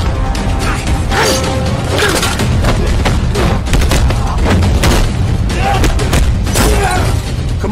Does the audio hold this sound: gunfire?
yes